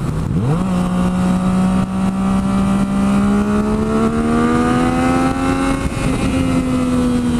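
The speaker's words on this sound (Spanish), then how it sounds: "vieron cómo se escucha muy limitado el motor ahora vamos a poner el modo estándar" A Yamaha FZ-09 / MT-09 motorcycle engine in standard mode, loud and close, climbing from idle into a long, rising rev that holds high before easing slightly, with no talk.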